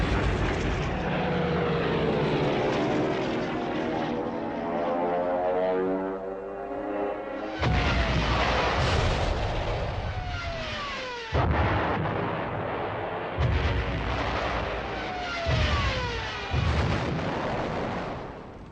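Stuka dive bombers attacking French tanks in wartime France in 1940, with a loud, sustained aircraft engine roar and rising whine of diving propeller planes, broken by heavy artillery blasts and explosions from about seven seconds on.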